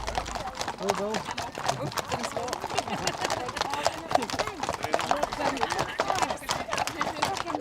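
Horses' hooves clip-clop steadily as mounted riders pass with a march on a Hebridean island road, a continuous close rhythmic clatter with voices talking underneath.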